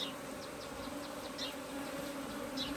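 Agitated honeybees buzz around an opened HiveIQ hive during an inspection, a steady swarm hum overlaid with repeated sharp fly-by buzzes from individual bees darting close.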